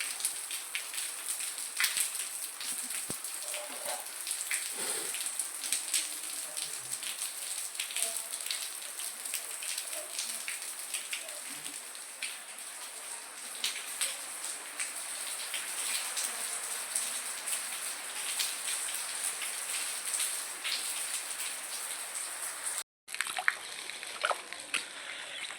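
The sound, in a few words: rain falling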